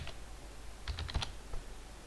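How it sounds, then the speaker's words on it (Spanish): A computer keyboard gives a few faint, close key clicks, with a small cluster in the middle and one more a little later, over a steady low hum in a quiet room. "presionar, hacer un clic en el Enter"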